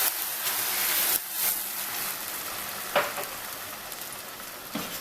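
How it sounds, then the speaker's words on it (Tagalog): Morcon slow-frying in syrup and oil in a pan, a soft steady sizzle with a few sharper bubbling pops and lid clinks, fairly quiet and close, no one talking. "Ilalagay na natin yung syrup niya. Tapos, slow fry po natin."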